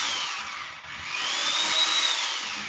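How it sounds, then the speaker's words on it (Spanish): A power drill runs continuously, giving a steady, fairly loud high whine that rises slightly in pitch partway through, with no voices. "ahí tiene encendida un taladro"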